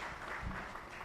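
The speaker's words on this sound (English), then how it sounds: "let's give them another round of applause" A summit audience gives the panel taking the stage a brief, faint burst of applause, a soft continuous wash of clapping lasting about a second.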